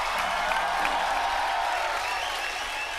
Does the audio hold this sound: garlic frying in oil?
no